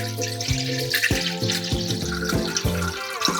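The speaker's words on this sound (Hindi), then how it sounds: "ये हमारे इडली स्टीमर में हम पानी डाल रहे हैं।" Water runs steadily from a tap into an idli steamer set on a gas stove, a continuous close pour with splashing and rising filling tones over about three seconds.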